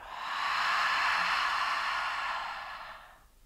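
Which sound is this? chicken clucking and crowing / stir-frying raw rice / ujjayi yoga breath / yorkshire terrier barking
ujjayi yoga breath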